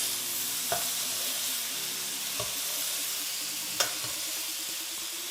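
Steak sizzles in a hot pan as butter is added and spooned over it, a steady close hiss of frying with a few soft clinks of the spoon, no one talking.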